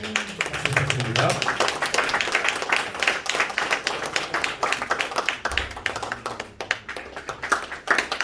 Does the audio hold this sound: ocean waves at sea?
no